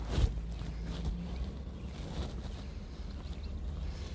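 Convertible car driving with the top down, recorded from inside: low engine and road rumble with wind noise, fairly faint and steady, no talking.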